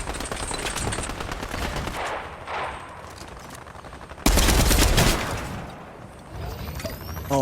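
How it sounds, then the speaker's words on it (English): Fortnite gunfire during a Chapter 3 Season 1 Champion Series endgame, dense overlapping automatic fire and bursts with a loud volley midway, layered over busy game effects. "Oh, look at that Vino taking an extra shot a little bit off the top."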